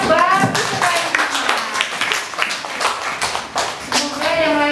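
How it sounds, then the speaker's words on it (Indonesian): Close, uneven hand clapping from a small workshop audience at a school event for a student, sharp individual claps mixed with voices talking over them. "Tepuk tangan untuk Dimas"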